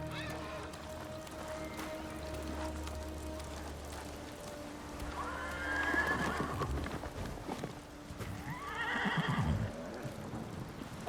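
A horse in Ghost of Tsushima gives two close, clear neighs a few seconds apart, with hoof clops and a soft rain-like wash running underneath.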